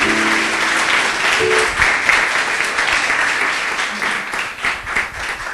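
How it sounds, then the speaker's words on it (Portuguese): A church congregation claps in a continuous, loud, dense applause throughout, with keyboard tones and a faint voice mixed underneath. "Louve ao Senhor com suas palmas."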